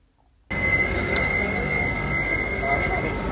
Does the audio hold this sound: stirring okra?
no